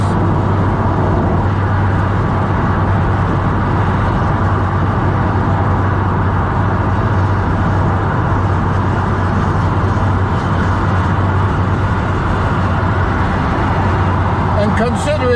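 Steady broadband road and wind roar inside a Toyota Yaris convertible driving with the roof down, a continuous loud rumble with a low engine drone, with no pauses through the stretch.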